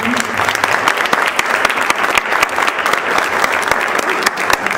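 Audience applauding after the presentation of a mural made by a women's art collective at a book launch in Chile, a dense, steady clapping that fills the room without a break from start to finish.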